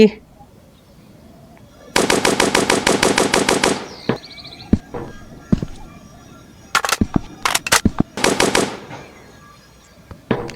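Gunfire from shooting zombies in a Roblox desert game: a sustained rapid automatic burst, then scattered single shots and short bursts, close and loud, with faint voices between.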